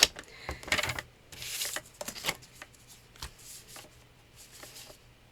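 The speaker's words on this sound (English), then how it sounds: "I'm going to cut this down into mats, and I'm going to cut them at 4 inches" A paper trimmer slices a sheet of cardstock into mats for cardmaking, producing soft scraping swipes and light clicks that start close and loud, then taper into quieter, scattered rustles.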